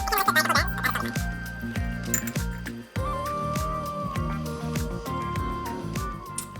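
Coffee drips and gurgles through a V60 pour-over dripper, a quiet, close patter of irregular drops and liquid trickles with faint clinks, with no talk over it.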